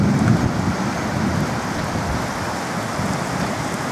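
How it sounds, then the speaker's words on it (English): Heavy rain falls by a swimming pool in Thailand during the rainy season, making a dense, steady hiss with close drops spattering on hard surfaces and no speech. "Now we're starting to get some pretty heavy rain now."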